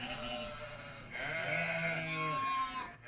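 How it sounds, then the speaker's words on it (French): Sheep and a lamb bleat in a few long, wavering, nasal calls, one voice overlapping another, fairly close against a quiet background. "Mouton et agneau."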